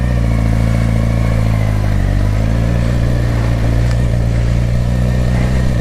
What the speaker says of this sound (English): It's a 2007 Suzuki GSX-R600, and it's a blast.